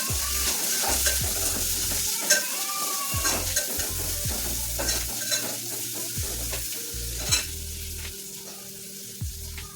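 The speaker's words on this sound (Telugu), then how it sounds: "ఇప్పుడు అందులోనే ఉల్లిపాయలు, దాని తర్వాత వెల్లుల్లిపాయలు, ఇవి రెండు వేసుకుని ఒకటి వేగించుకోవాలి." Onions and garlic fry in a pan with a constant crackling sizzle, broken by repeated scraping stirs of a spoon against the metal, close and clear with no speech.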